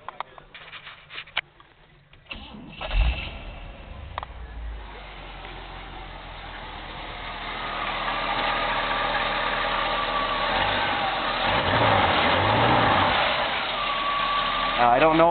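A hydrogen-powered vehicle engine turns over and settles into a steady mid-pitched idle, starting faint with rattles before a rising, continuous rumble with vibration and slight revving swells.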